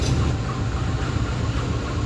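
A Turangga passenger train rolls past on track 1 at a station, a steady loud rumble of wheels and wagons with no pauses and no voices.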